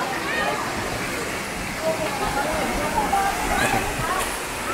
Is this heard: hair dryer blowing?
no